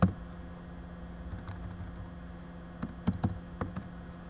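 Computer keyboard keys tap quietly as a file name is typed, a few scattered clicks and a short cluster of keystrokes over faint room noise.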